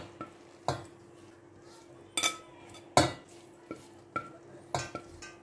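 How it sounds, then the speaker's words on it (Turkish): Fried eggplant slices tipped from a strainer into a wide pot, giving a few sharp clinks and soft clattering knocks spread across the moment, close and fairly quiet with no talk. "Yayvan bir tencereye yağını süzdürdüğümüz patlıcanları döküyoruz."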